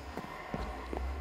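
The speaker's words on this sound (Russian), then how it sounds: "Это звук дерева." A few soft, hollow knocks of wood blocks being placed in the Minecraft video game, three or four taps spaced about a third of a second apart over a faint background hum.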